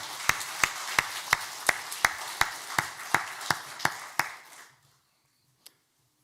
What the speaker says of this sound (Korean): 다시 한번 격려하는 박수